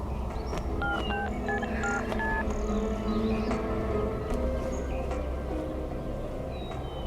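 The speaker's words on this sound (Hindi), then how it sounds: "फोन करती हूँ।" A sequence of phone keypad tones beeps out a number, short paired notes in quick succession over a steady background hiss.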